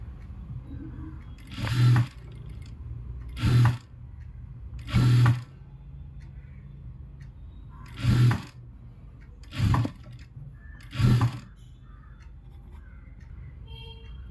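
A sewing machine stitches a sleeve joint in short bursts, six separate runs of a second or less each, with quiet pauses between them. The machine sounds close and fairly loud, and no one speaks.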